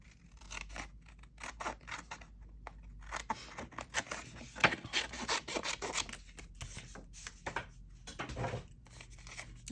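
Scissors snipping and rustling through paper for a craft project, close and continuous, with rapid irregular cuts and scraping paper handling throughout.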